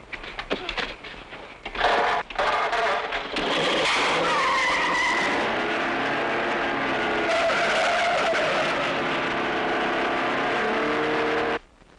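A 1940s car from an old black-and-white film peels away with screeching, skidding tires and a revving engine, loud and close, a sustained squeal that holds for most of the passage before cutting off.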